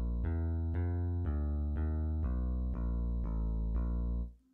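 Electric bass plays a walking line in a dark, minor-leaning key, with steady even notes about every half second, close and clear, sounding alone before the last note fades out.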